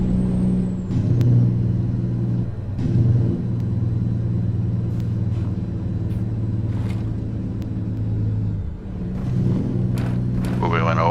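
Freightliner Coronado in Euro Truck Simulator 2, hauling forklifts through Germany, with its jake brake giving a steady, loud, low droning rumble that carries throughout while someone talks over it.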